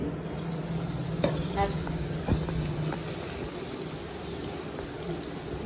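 Hot oil poured over a pickle mix of mango and carrot crackles in a continuous bubbling sizzle, with a couple of faint clinks and a low voice murmuring in the background.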